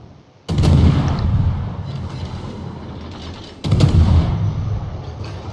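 Naval gunfire from destroyer guns in World of Warships, two heavy booming salvos a few seconds apart, each a loud sharp blast trailing into a long rolling rumble.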